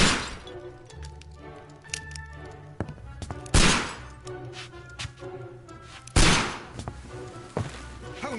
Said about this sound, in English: It'll be better for the both of us if you stop shooting at vases!